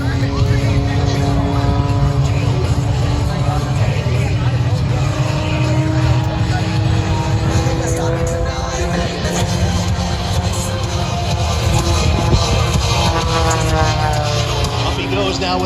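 An MX aerobatic airplane performing at the Boundary Bay Airshow 2023 drones with a loud, sustained propeller engine tone that shifts in pitch as it manoeuvres, and an announcer talks over it throughout.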